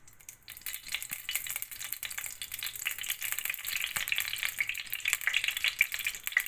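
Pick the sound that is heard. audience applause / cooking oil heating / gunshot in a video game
cooking oil heating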